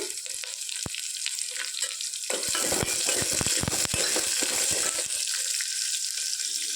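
Chopped onions and garlic are added to hot oil with cumin and chillies for a South Indian dal, and a continuous close sizzle swells louder midway with a burst of crackles and spatters, no voices over it.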